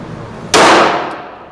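A single semi-automatic handgun shot rings out sharply at a shooting range during a beginners' class. The loud crack is followed by a decaying echo over a quiet background.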